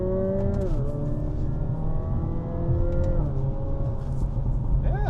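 A 2025 Hyundai Elantra N, a front-wheel-drive performance car, drives with a steady engine drone, its pitch climbing and shifting through gear changes, heard continuously from inside the cabin.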